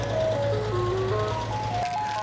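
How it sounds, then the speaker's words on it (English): Ice cream truck near a casino in Mississippi, its chiming melody playing a clear stepped tune over a low idling engine rumble, close and steady as it passes. "I heard that ice cream truck and I went running"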